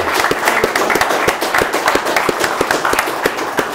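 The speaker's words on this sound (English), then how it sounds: "big round of applause, yeah?" A live audience at a DigiByte cryptocurrency event in London gives a round of applause, dense overlapping hand claps forming a steady, fairly loud wash with sharper individual claps popping through, sustained throughout.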